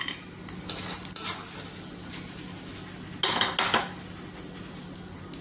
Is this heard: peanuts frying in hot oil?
yes